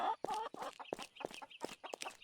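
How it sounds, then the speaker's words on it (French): Chickens clucking in the video game American Fugitive, a run of short, separate clucks in quick irregular succession, fairly clear with little else around them. "Il y a des poules."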